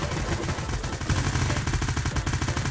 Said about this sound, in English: Bro, there's like five dudes shooting at me.